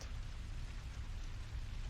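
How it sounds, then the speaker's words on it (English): Heavy rain pours steadily outside a bar at night, a dense, even wash of hiss and low rumble with no distinct drops standing out and no voices. "The rain still poured heavily outside"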